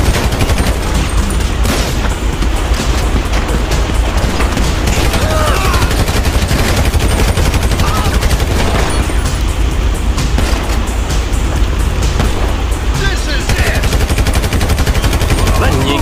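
Sustained automatic gunfire and heavy shooting during a bank robbery mission in the video game GTA 5, dense rapid bursts with booms and vehicle noise, loud and continuous throughout with a voice talking underneath.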